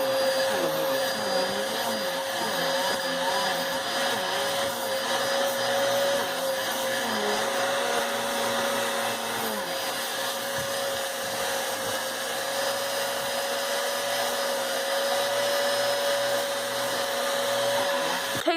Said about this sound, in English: So I'm just going to vacuum it real fast